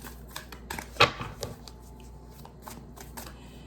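A tarot card deck being shuffled close by, a quick flurry of riffling card taps with one sharper slap and scattered lighter flicks, fairly quiet, with no talking.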